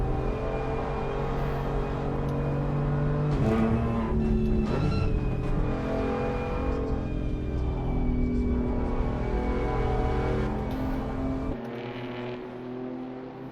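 Race cars rumble through a formation lap at Snetterton in Assetto Corsa Competizione, a loud layered engine drone with rising and falling revs as cars pass close by, continuous throughout before dropping quieter near the end.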